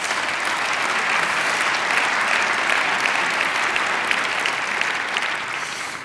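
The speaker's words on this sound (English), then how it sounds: "Let's give David Taylor a round of applause" An audience at a downtown civic address claps for a developer, a broad, even wash of applause from a sizable crowd that swells slightly mid-way and tapers near the end, with no talk.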